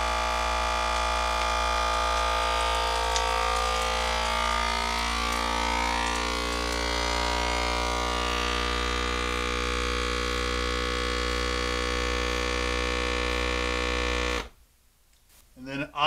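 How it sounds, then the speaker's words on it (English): FoodSaver vacuum sealer drawing the air out of a bag of pork chops, a steady close mechanical drone with buzzing hum that runs unchanged for about fourteen seconds, then cuts off abruptly into near silence. "And it just sucks everything, all the air out of it slowly here."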